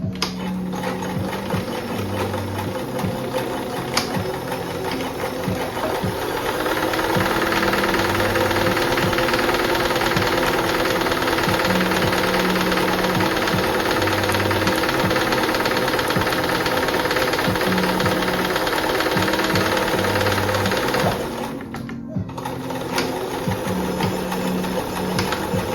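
Sewing machine stitching a fabric bag, a close, steady rapid mechanical whir and clatter running for about twenty seconds, briefly stopping and restarting near the end.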